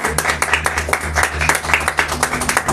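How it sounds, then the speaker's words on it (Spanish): A church congregation claps in a loud, steady stream of hand claps, dense and fast, with a sustained low hum running underneath. "Dale un fuerte aplauso a Jesús"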